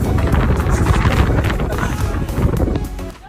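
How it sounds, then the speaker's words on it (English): Strong wind buffets the microphone in a steady, loud roar that barely lets up, easing only slightly near the end. "It's so windy"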